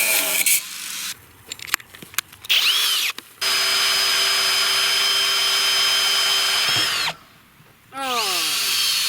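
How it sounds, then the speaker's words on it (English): A power drill bores holes for a rebar crosspiece on a temporary DIY power line for dove season, running in bursts with a long steady whine, brief stops and restarts, close and loud. "we're gonna get to drill some holes up here and putting us a piece of rebar across"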